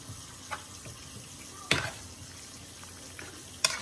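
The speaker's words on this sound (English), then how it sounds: "Stirring this in here pretty good." Shrimp and sausage spaghetti is stirred in a pan, giving a soft frying sizzle under scattered scrapes and clinks of the utensil, with two sharper knocks against the pan.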